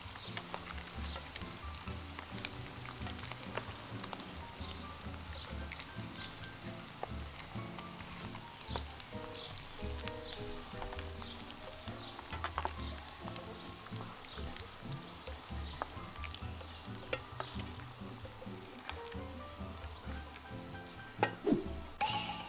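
Sun-dried squid deep-fries in hot oil in a busy, continuous sizzle and crackle, close and steady throughout with small popping bursts and a few clinks near the end.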